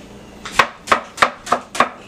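A kitchen knife chopping an onion on a cutting board for a home chilaquiles dish, five evenly spaced, sharp, close thuds at a slow steady rhythm with quiet room noise between strokes.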